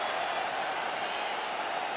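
A UFC 5 arena crowd roars and applauds after a full 25-minute fight, a steady wash of cheering and clapping at even volume with no clear breaks.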